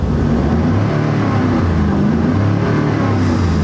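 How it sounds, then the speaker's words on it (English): 2018 Ford F-150 XLT pickup revving through its exhaust, a loud, close, deep rumbling engine note swelling steadily with no talking. "This truck does have a good sound. Let me see if I can rev it."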